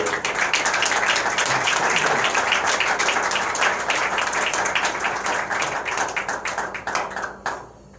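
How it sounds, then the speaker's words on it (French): Sustained applause from an audience at a ceremony honouring a trainer, dense steady clapping filling the room for about seven seconds before tapering off abruptly near the end. "on peut l'applaudir"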